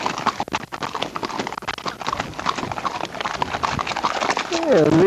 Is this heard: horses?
yes